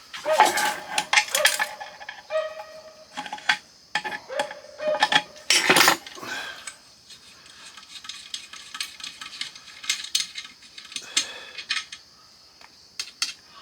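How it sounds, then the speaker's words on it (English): Stainless steel scrap pieces from a network server box dropped into a jar, a series of close, sharp metallic clinks and rattles at irregular intervals, some clustered, with quieter handling noise between. "Put that in our stainless jar."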